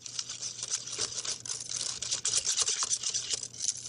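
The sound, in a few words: whisking pumpkin cheesecake batter in a bowl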